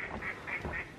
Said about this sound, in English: Ang dami-dami ng mga ducks dito